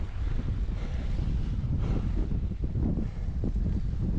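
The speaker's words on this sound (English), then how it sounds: "The wind is strong, man." Strong wind on a snowy hike in Norway buffets the microphone with a constant loud, rough roar that gusts unevenly throughout.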